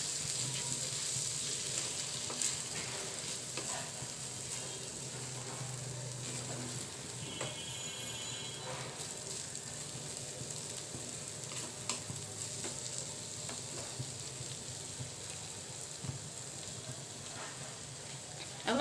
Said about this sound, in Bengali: এখন এটার সাথে টমেটো সসটা ভালো করে একসাথে মাখিয়ে নেব।